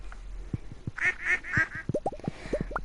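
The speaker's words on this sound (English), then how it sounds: "And then this one's ducks." Ducks in the video game Stardew Valley, a run of nasal quacks, several clustered in the middle, among soft tapping sounds, close and fairly loud.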